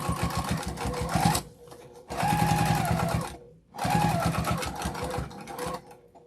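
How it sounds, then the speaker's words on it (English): A sewing machine top-stitches along the edge of a boxy fabric bag in three close bursts of rapid needle clatter, separated by short pauses. "we're just going to top stitch all along that edge at 1/8 of an inch"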